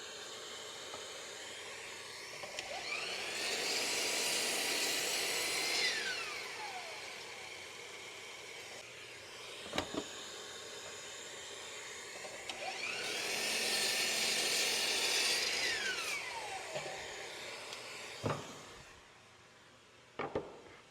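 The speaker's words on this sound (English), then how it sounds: "we can now cut our short sides to a 24-inch length" Power saw cutting the short-side boards of an elevated garden bed to length, two separate rising-and-falling whining cuts of a few seconds each, with quiet pauses and clunks between them.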